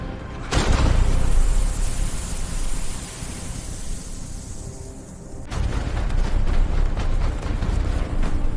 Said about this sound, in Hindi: जैसे ही सरसों मीरा के पास पहुंची, एक धमाका हुआ